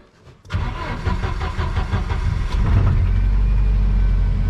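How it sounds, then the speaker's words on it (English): A Jeep Wrangler YJ cranks briefly and fires up, then settles into a loud, close, steady idle with no talking. "Nothing in the engine bay, I can start it."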